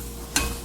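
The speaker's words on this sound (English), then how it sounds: "you gotta really stir this stuff around" Browning ground meat for spaghetti sauce crackles in a frying pan, with one sharp scrape of a utensil midway through the steady close sizzle.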